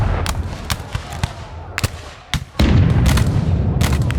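A Revolutionary War battle effect of musket volleys and grapeshot, with a string of sharp cracks and booms over a rumbling background that swells louder near the end.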